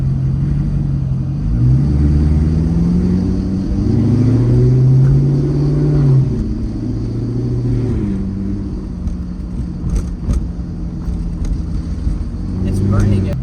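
A rebuilt Corvette that is running smoky and burning something drives in third gear, its engine droning low and steadily. The pitch rises and falls with the revs, and a few faint clicks come near the end.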